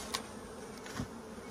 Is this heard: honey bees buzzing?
yes